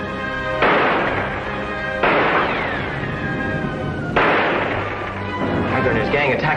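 Bombers attack in a 1943 adventure serial, with three heavy, loud blasts spaced a couple of seconds apart over a continuous rumbling roar, and a falling whistle sliding down in pitch after the second blast.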